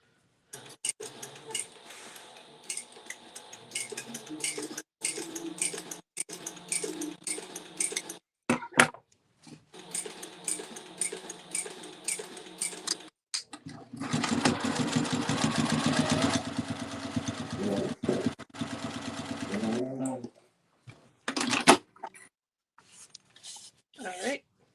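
A sewing machine stitches across the bottom of a crossbody bag, close and moderately loud, in stop-start runs of whirring needle strokes with one longer sustained run midway and a few brief bursts after it.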